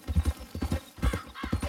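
Hooves of a horse in the video game Red Dead Redemption 2 clip-clop in a close, steady walking rhythm, several distinct thuds in quick succession with a dull, muffled low end.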